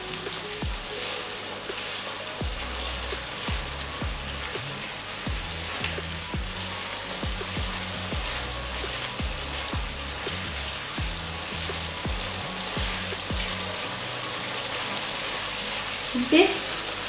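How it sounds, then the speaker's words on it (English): Melon seed paste fries in a Bengali shorshe potol gravy, giving a steady soft sizzle all through with faint stirring taps and a brief louder clatter near the end. "And now again 2 to 3 minutes I am going to fry it."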